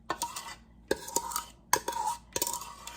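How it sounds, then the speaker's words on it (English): Pumpkin flesh scraped out with a metal utensil, heard as four close bursts of rasping, scratchy scraping separated by short pauses, no talking. "Now, if you want to scrape out the good stuff from that, you can."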